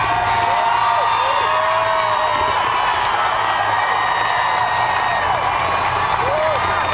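A dense crowd cheers and roars along the Boston Marathon finish stretch in 2014, a constant loud wall of noise with whoops rising through it and a commentator talking over the top.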